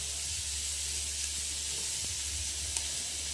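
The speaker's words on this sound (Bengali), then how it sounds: "যতক্ষণ উচ্ছেটা ভাজা হচ্ছে" Bitter gourd slices frying in oil in a pan, a continuous even hiss of sizzling oil close by with a faint clink or two, no talking.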